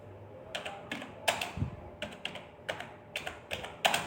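Crisp computer-keyboard keystrokes come in short, irregular bursts of a few clicks each, close and distinct over a faint background hiss, with no voices.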